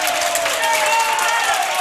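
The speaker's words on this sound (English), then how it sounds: "the Loretto fans in front of us give a little sarcastic cheer" Loretto fans at a girls' high school district championship basketball game give a brief sarcastic cheer, a steady broadband crowd roar with scattered clapping, close and fairly loud with no clear gaps.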